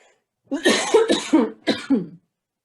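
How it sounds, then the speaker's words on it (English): A person coughs several times in a quick burst, close and loud, followed by silence. "I'm going to cough"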